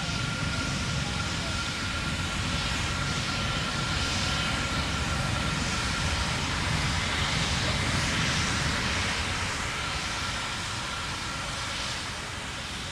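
The 3D-printed Terran 1 rocket roars during its supersonic ascent. The engine noise is a continuous, fairly distant broadband rumble with a faint tonal whine, and it holds steady throughout.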